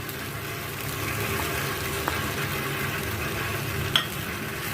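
Okra drops into a pan of soft cooked tomato masala and sizzles steadily, with faint stirring scrapes and a couple of small clicks under a continuous close frying hiss.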